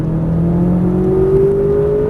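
A McLaren 570S at full throttle, its engine note climbing steadily in pitch as it accelerates hard, loud and close throughout two seconds with no talking.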